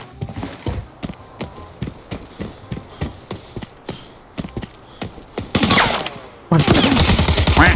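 Rapid bursts of video game gunfire crack out in a steady rhythm, joined near the end by louder, denser automatic fire that swells abruptly.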